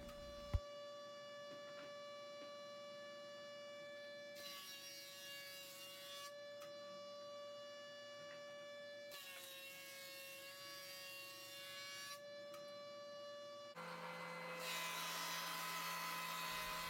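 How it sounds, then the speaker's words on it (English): A jointer surfaces the face of a scraped-down wood board, its motor humming steadily while cutting passes come in several bursts of harsh rasping, each lasting a few seconds, close and loud with no voices. "back to the jointer, and we're going to joint one face that we scraped down"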